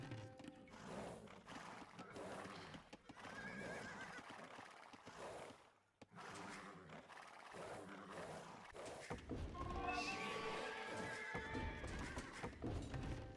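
Scout cavalry horses whinny and neigh repeatedly in Age of Empires 2, with clip-clopping hooves under busy game sounds, growing denser and louder toward the end.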